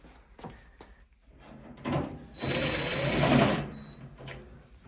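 A power drill whirs briefly for about a second and a half, driving a screw into an ASKO clothes dryer, amid some clunks and handling noises nearby.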